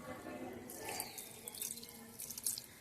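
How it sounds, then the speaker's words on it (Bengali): Water pours and splashes into soil in potted chrysanthemum plants, a soft, fairly quiet trickle with light spattering that swells and eases over a few seconds. "আমি প্রতিটা গাছে আমি জল দিয়ে দিচ্ছি।"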